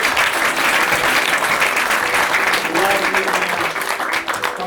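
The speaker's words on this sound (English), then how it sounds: "A round of applause for Neil." A theatre audience at a parlour magic show claps steadily to welcome a volunteer named Neil onto the stage, dense and loud applause filling the whole stretch without a break.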